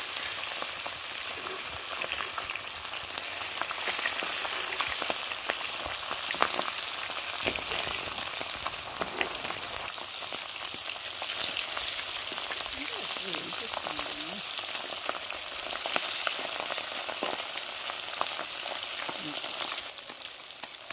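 Small chapila fish sizzling in hot oil with a constant crackling hiss, occasional stirring or scraping sounds mixed in.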